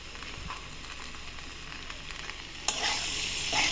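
Chopped tomato and green chilies frying in a pan, giving a soft, continuous sizzle with light stirring scrapes that swells into a louder crackling hiss near the end, heard close with no talk.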